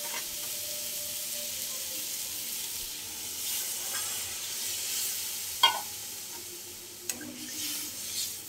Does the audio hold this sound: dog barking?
no